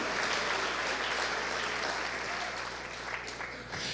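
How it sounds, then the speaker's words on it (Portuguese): A congregation applauds during a sermon at a church service, with steady, continuous clapping of even loudness filling the whole stretch. "Aplauda ele"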